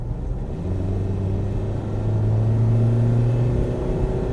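A 2023 Mahindra Scorpio accelerating at full throttle from 60 km/h, heard from inside as a steady low engine drone with a slowly rising tone and road rumble, moderately loud and continuous.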